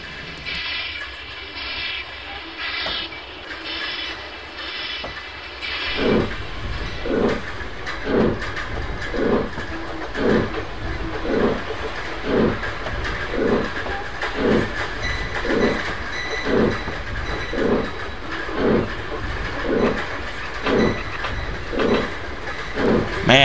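Steam locomotive sounds in the Trainz video game, the same set used for the Flying Scotsman: a soft hiss at first, then steady rhythmic chuffing that picks up and repeats evenly, loud and close.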